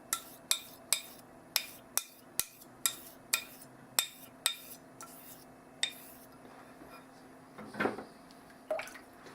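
A Boker straight razor strikes and strokes across a Narutaki Jnat tomae stone in regular sharp ticks roughly every half second while the bevel is reset, close and distinct, with a brief scraping flurry near the end.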